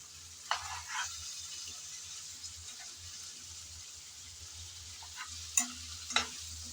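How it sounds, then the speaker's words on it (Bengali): Cauliflower stalks are stirred and sautéed with coriander leaves in a pan for chorchori, a faint low sizzle with a few soft scrapes and spoon clinks, close by and without speech. "ডাটাগুলো দিয়ে নেড়ে চেড়ে ভালোভাবে কষিয়ে নিতে হবে"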